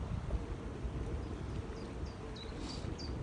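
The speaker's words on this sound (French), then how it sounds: "il y a énormément de vent" Strong wind buffets an outdoor microphone on a spring hike, a steady low roar filling the clip with a few faint bird calls high above it.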